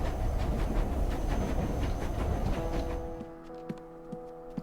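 A train ride in the Nancy Drew: The Silent Spy video game, with a dense rumbling roll and rhythmic clickety-clack of the rails that fades into a quieter hum with a few sparse clicks.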